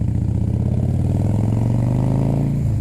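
Harley-Davidson 88 Twin Cam Softail with new exhaust pipes on a test ride, its engine running a steady, loud, close rumble that pulls up slightly in pitch before easing back.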